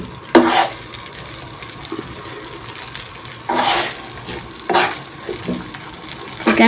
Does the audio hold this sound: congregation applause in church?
no